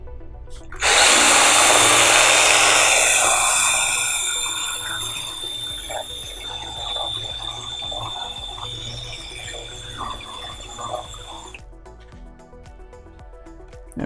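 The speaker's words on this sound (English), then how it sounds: "Actually, add just a hair more water." Water being added to drywall joint compound as a power drill mixer whirs loudly at first, then eases into a lower churning and sloshing of the thinning mud before stopping.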